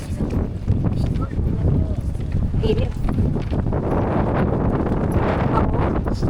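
Wind gusts outdoors buffet the microphone, making a constant low rumbling roar with faint voices mixed in beneath it.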